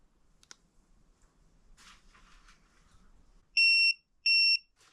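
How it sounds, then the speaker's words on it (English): Two short, shrill electronic beeps in quick succession from an RV tire pressure monitor, warning of no tire pressure, ring out clearly after some soft clicking and handling noise. "it's beeping because there's no tire pressure"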